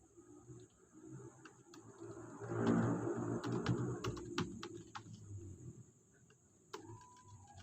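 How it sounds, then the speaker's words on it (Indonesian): Computer keyboard keys tapped in short clustered bursts and single clicks while typing an address into a browser, close and moderately loud, with no talk over it. "nah kita ketik sini localhost"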